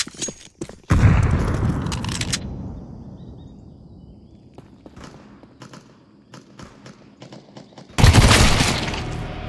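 Two loud, close grenade blasts in Counter-Strike 2 on the Ancient map, one near the start and another toward the end, each a sharp crack with a rumbling tail, separated by quieter clatter and small game noises.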